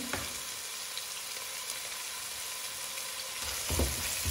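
Sliced onions and bay leaves fry and brown in a pan for chicken biryani, giving a constant crackling sizzle with a stir or two near the start and a brief bump of movement toward the end.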